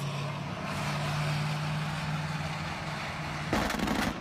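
Road traffic in Kyiv's Obolon district, a steady rumble of vehicles going by, with a heavier, louder pass near the end.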